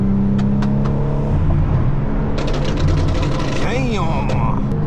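BMW M4 F80 cars driving on the road produce a steady engine drone with shifting tones and a rising rev near the end, under ongoing talk from people riding along.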